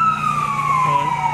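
A fire truck siren sounds loud and close during a firemen's parade, holding one long falling wail over a low engine rumble.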